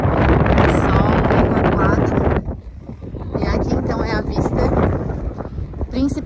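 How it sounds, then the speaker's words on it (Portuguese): Strong wind buffets the microphone near the Santa Marta lighthouse in Laguna, a steady roaring gust that dips briefly and returns, with faint voices of people nearby under it. "Ó o barulho do vento."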